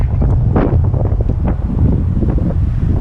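Strong wind buffets the microphone outdoors, a loud, continuous roar with gusty rises and falls.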